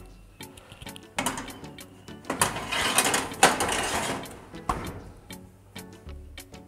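Rye bread being put into a hot oven, heard as a series of clicks, rattles and a metallic clatter of racks and the door, swelling in the middle then settling back to sparse ticks.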